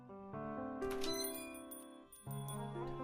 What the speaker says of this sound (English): the chime of the bell above the door, marking the end of the conversation